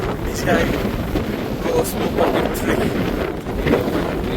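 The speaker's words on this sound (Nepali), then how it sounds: "यस्तो चिसो हावा" Cold wind gusts across a hilltop overlooking Cambridge, England, roaring steadily against the microphone with surging buffets throughout.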